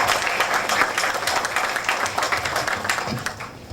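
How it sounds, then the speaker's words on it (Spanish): Dense applause for a speaker at an engineering conference, many hands clapping steadily and close for several seconds before tapering slightly. "Por favor, démosle fuerte aplausos para el ingeniero."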